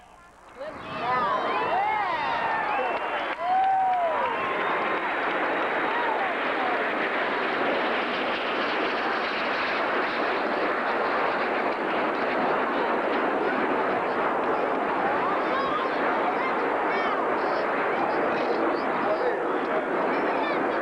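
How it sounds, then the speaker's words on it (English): A loud, sustained roar of the Snowbirds nine-jet aerobatic formation sweeps overhead at an air show, rising quickly and holding as a broad rushing drone for a long stretch. "The 9-plane formation has now split up"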